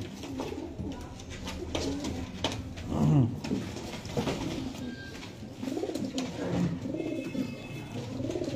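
Many pigeons, Teddy pigeons among them, coo in repeated low throaty calls at a pigeon market in Gujranwala, near and layered, with someone talking over them throughout.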